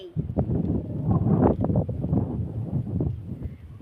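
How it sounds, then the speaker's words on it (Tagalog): Strong wind buffets the microphone in continuous gusty roars in the middle of a vegetable field, loud and close throughout. "Mahangin dito guys."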